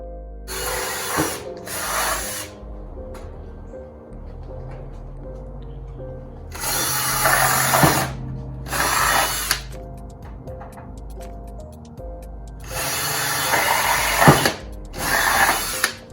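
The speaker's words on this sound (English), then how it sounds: "drilling stiffeners for these two horizontal parts here" A power drill whines in short bursts through aluminum stiffeners for a Zenith Cruzer aircraft fuselage, two quick runs at a time with pauses between, close and loud.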